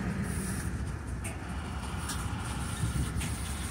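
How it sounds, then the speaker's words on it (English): CSX freight train starting off in notch 1 as its slack stretches out, a steady low rumble and drone with faint clanks, heard close and continuous. "He put it in notch 1 and all of the slack was stretching out."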